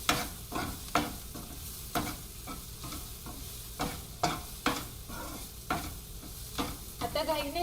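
Onions and a spice paste sizzle in a pan for Bhopli Mirchi Rassa Bhaji while a spoon stirs them, scraping and clacking in regular, close strokes over a constant frying hiss.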